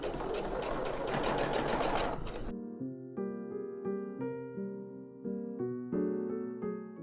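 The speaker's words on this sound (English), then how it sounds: "Chain sewing, chain piecing allows you to do the same stitch step without having to break your thread." A sewing machine runs in a rapid stitching burst while chain piecing quilt blocks, then gives way to a series of short, evenly repeated mechanical pulses, close and clear with no talking.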